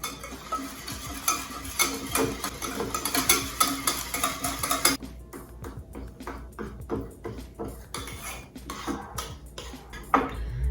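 A brown sugar mixture for honey bread is beaten in a bowl, giving rapid rhythmic scraping and clattering strokes that stop halfway, leaving a few scattered taps and knocks.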